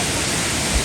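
Parvati waterfall on the Shrikhand Mahadev pilgrimage route roars as a loud, continuous broadband rush of falling water, close and steady through the brief moment.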